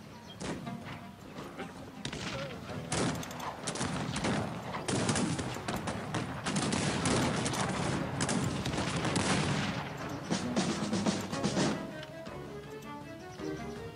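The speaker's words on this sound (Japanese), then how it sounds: "大砲か。" Battle noise from the strategy game Cossacks 3, with cannon and musket fire booming and crackling densely amid a din of massed troops, fading near the end.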